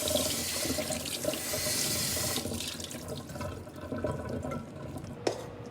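Cold tap water gushes steadily from a faucet into a pot of rice pudding, a continuous close splashing hiss that softens midway, with a brief clunk near the end.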